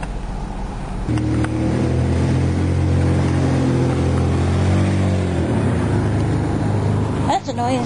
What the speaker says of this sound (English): That's a noisy truck.